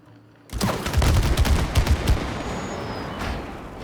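Gunfire from the co-op video game It Takes Two: a rapid burst of shots begins suddenly, then fades into a lingering rumble.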